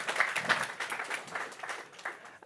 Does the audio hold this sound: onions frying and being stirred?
no